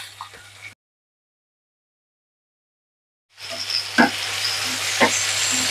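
Tomatoes dropped into onions frying in a pan for tomato ukkera, a steady close sizzle with a few sharp pops and clacks, following a brief sizzle and nearly three seconds of silence.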